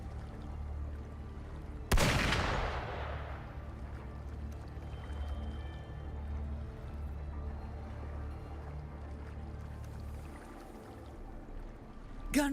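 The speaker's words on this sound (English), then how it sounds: "Gunfire! We've got intruders" A single sharp gunshot-like crack in Wuthering Waves rings out over a steady low rumble of game ambience, followed by a quieter burst near the end.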